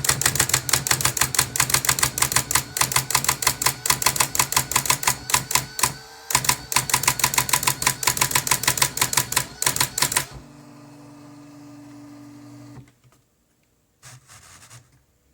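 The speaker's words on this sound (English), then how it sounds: "So here's an example of a print." A Brother LW-35 typewriter prints with its daisy wheel in a fast, steady run of close mechanical strikes for about ten seconds, then goes quiet apart from a low motor hum and a short final whir.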